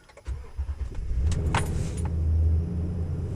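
A 2010 Toyota Tundra that had run out of gas cranks briefly and then catches, its engine firing up into a loud, steady idle close by, with no talking.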